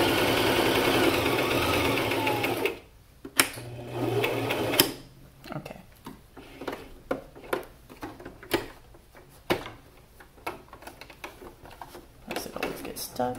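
Sewing machine running steadily for a few seconds while back stitching a fabric mask, close and loud, then stopping; sparse clicks and handling noises follow, with speech in between.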